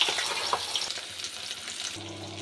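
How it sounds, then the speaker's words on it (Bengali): Chopped onion and chilli sizzle steadily in hot oil in a wok, a close, continuous crackling hiss with a brief shift in tone near the end and no talking. "কড়াইতে তেল গরম হয়ে গেছে, পেঁয়াজ কুচি আর লঙ্কা ছেড়ে দিচ্ছি"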